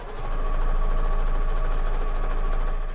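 A sewing machine runs steadily while stitching quilt blocks together, a continuous close whirring hum with no talk over it.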